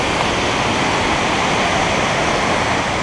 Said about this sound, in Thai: ก็น้ำตกค่อนข้างแรงเหมือนกันนะครับ อย่างที่เห็น